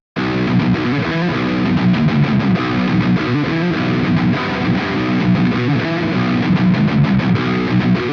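Distorted electric guitar through a Toneforge amp plugin on its dark rhythm preset, playing a dense, continuous heavy riff with chugging low notes and a slightly scooped midrange, loud and steady throughout.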